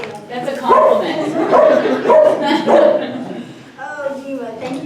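A crowd of people imitating dog barks and yips, several voices overlapping in a lively, playful chorus.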